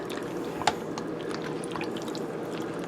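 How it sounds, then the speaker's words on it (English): An egg bake mixture stirred in a bowl: soft, wet sloshing and squishing at a steady pace, close by, with a couple of sharper taps against the dish and no voices. "And I'm going to stir this up."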